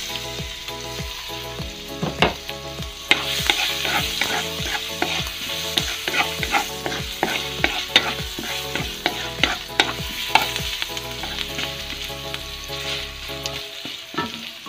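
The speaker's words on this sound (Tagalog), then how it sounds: "Magigisa na tayo ng ating mga sangkap. Uunahin lang po natin ang ating sibuyas." Onions sautéing in a pan as the base for gizzard caldereta: a steady loud sizzle with rhythmic scraping strokes of a spatula through the whole stretch, with no voices.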